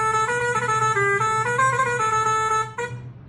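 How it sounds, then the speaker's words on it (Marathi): Truck horn sound played from a website, a loud, continuous multi-tone blare lasting nearly three seconds before cutting off abruptly, heard alone with no talk. "इव्हन त्यांनी इथं हॉर्न पण दिले. हॉर्न बघा कोणतं, तुम्हाला लगेच समजेल."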